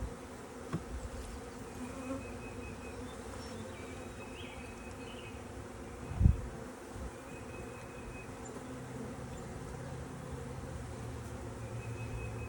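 Honey bees hum steadily around a hive opened for its first spring inspection, a low, continuous buzz close by with one brief thump partway through.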